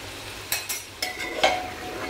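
Grated carrot with ghee is stirred in a pressure cooker pot, with several scraping strokes of a spoon against metal over a soft background sizzle, close and clear with no speech.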